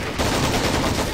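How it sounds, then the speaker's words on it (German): Anti-tank weapon fire in the Men of War Assault Squad 2 war game, a loud, dense burst of explosive, gunfire-like blasts running continuously through a short stretch of battle noise with no talking. "du schießt jetzt mit deiner Panzerabwehrrakete hier in den Wald oder auf das Auto"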